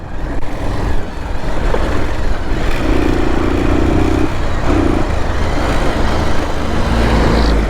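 Motorcycle engine running steadily during a short test ride after a gear lever repair, a loud continuous drone with shifting low rumble and brief tonal changes as it rolls along, no talk.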